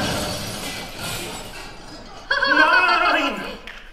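Cups and glasses are hurled and smash in a German opera stage scene, a loud crash of breaking glass and crockery after a stretch of busy noise, with laughter and voices mixed in.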